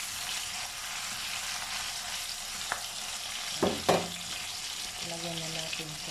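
Duck pieces frying for adobo, a soft steady sizzle in a home kitchen with a few clinks and knocks of utensils against the pan.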